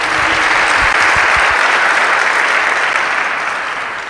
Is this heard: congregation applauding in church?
yes